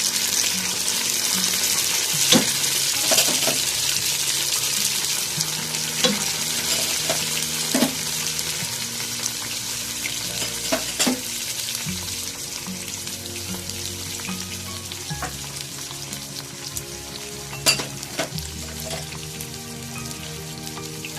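Spices go into browned onions frying in a pan for paye, giving a steady close sizzle with stirring clinks and scrapes, some wet bubbling, and sharp utensil taps against the pan, with no talking.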